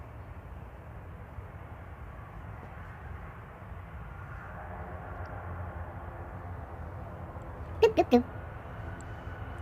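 An airliner taxis out at Manchester Airport: a low, steady engine rumble that swells slightly midway, with a few sharp, loud clicks near the end and a short spoken word.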